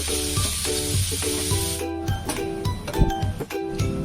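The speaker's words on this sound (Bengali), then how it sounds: "আমি এখন এটাকে ভেজে নিচ্ছি, 2 থেকে 3 মিনিট মতো ভেজে নেব।" A halwa mixture sizzles and crackles in hot ghee in a pan over a medium-low flame, a steady bright hiss with scraping stirring strokes throughout.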